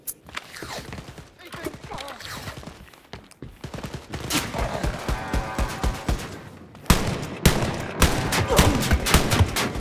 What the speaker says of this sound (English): Quit shooting me! Let me shoot back at you!